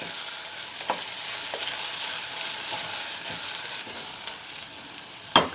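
Vegetables coated in turmeric, coriander powder, onion-garlic masala and garam masala are stirred in a hot pan, a steady sizzle broken by a few scraping strokes and one sharp clack of the spoon near the end, with no voices.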